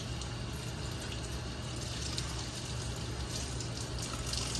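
Pork baby back ribs rinsed under a running kitchen tap, a steady, even rush of water that carries on unbroken and fairly close throughout, with no talking.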